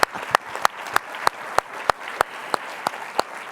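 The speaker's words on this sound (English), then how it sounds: "Give her a round of applause." A lecture audience claps after an onstage conversation with an author: sharp, evenly spaced claps at a slow, steady rhythm that stand out over a soft room background.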